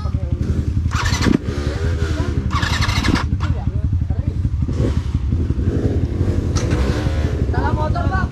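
A motorcycle engine runs steadily throughout during an off-road trail ride in Cimaung, loud and close, with a few revving surges, while several people talk over it.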